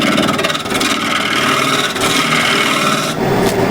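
KS bowl gouge cutting apple wood spinning on a lathe, a loud close continuous rasping scrape with slight rhythmic pulsing as the tool rides the bevel, shifting briefly near the end.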